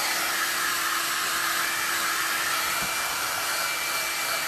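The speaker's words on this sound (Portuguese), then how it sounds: "porque é o som, né? O som desse secador." A hair dryer runs steadily with a constant broadband whoosh and faint tonal whine, used to dry paint on leather during a multicolor patina project; no talk.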